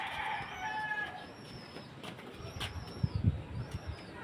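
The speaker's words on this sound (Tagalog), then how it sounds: "sisilipin natin yung ibon yung checkered kung nandito na" A checkered pigeon in its loft gives soft, low cooing near the end, faint against quiet background noise, with a few distant bird calls earlier and no talking.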